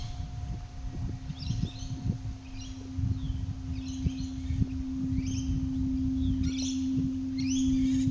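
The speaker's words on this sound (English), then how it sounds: "Here come all the birds." Birds calling at a beach, with short chirps and twittering bursts recurring over steady low rumble and a constant hum, moderately close, no talking.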